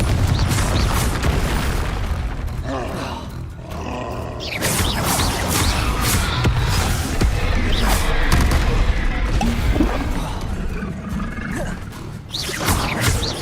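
Confringo fire spells blasting in Hogwarts Legacy combat, loud booming explosions and crashing impacts piling up continuously amid dense game battle noise.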